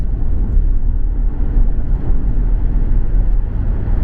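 A Jaguar XJ40 accelerating as its cruise control resumes, a steady low engine and road drone heard from inside the car, constant and fairly loud with no speech.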